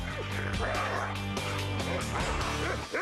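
A guard dog barks and yips repeatedly in quick, loud bursts, with whimpering in between, while people talk over it.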